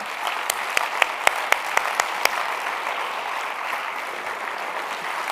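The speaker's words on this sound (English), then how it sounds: "Please join me in another round of applause." A university audience claps after an evening conversation event with a jazz musician, dense sustained applause with several loud close claps punctuating the first half before it settles into an even roar.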